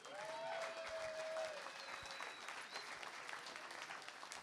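Audience applause at a live indoor arts-centre performance, steady clapping that swells then gradually thins, fairly quiet and distant.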